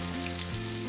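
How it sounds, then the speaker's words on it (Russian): Potatoes and finely chopped pork frying in a pan, a steady, dense sizzle heard up close and continuously, without any talking, with a faint tonal hum running beneath it. "Потом ее еще маленько разрежу и бока зажарю."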